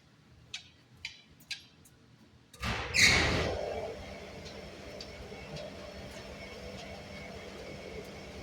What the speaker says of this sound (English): I'm gonna turn the blower on as well.